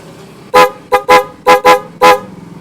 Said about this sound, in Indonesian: Ya, itu suara dari Hella yang biru.